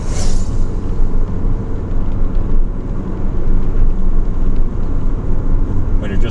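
A Fiat 500 Abarth drives along, its engine a steady, loud, close rumble from inside the car, with road noise throughout.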